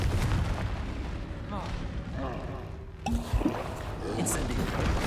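A Confringo spell blast sounds in Hogwarts Legacy on PS5 as a loud, booming burst within a dense, rumbling combat mix, with voices and other spell effects around it.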